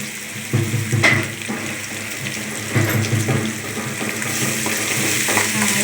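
Curry leaves dropped into hot oil in a home kitchen pan, a steady crackling sizzle with bursts of spitting and faint stirring, fairly close and without talk.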